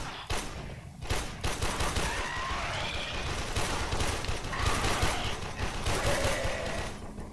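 Rapid gunfire while killing mobs in the video game Warframe, dense bursts of synthetic shots and impacts layered with game effects, continuous and loud for several seconds.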